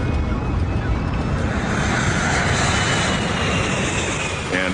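Airliner on its takeoff roll, rotating and lifting off, with blocked pitot tubes, gives a loud, steady broadband engine roar that fills the whole stretch without letup.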